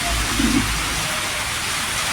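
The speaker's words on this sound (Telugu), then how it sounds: "ఎటు చూసినా కూడా అన్నీ వర్షమే" Heavy rain falls in Gundala village as a steady, dense hiss, close and continuous for a couple of seconds, with no talk.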